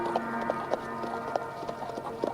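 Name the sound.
horse hooves clip-clopping as rider leaves, audio play effect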